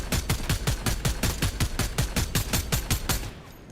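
Rapid, evenly spaced automatic gunfire in Fortnite, about twenty loud close shots in a steady rhythm that stop abruptly near the end.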